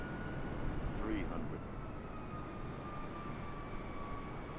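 Airplane engine during a landing approach in a flight video game, a steady low droning roar with a faint tonal whine held throughout, while a person talks quietly over it.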